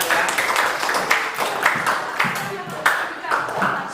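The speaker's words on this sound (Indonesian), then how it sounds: "Tepuk tangan untuk semuanya hebat ya." A group of students in a Quran reading class clap together. The claps are scattered and a little irregular, set close and at moderate volume, with voices talking over them.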